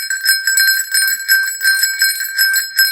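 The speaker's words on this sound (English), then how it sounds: "Anja, I have a special bell just for you." A special bell rings continuously in close, bright repeated trills, a high metallic shimmer pulsing steadily for a few seconds with no talking.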